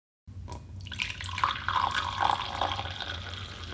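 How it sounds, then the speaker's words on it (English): Coffee pours into a cup with a steady liquid stream and gurgling, fairly close and moderately quiet, running for several seconds after a brief silence, with no voices. "the sound of the pouring coffee into the cup"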